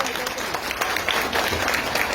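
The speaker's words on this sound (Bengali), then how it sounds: "সবাই করতালি।" Applause from a crowd gathered at a Durga Puja pandal visit during Mahashashthi, a short burst of dense clapping heard close with some voices mixed in.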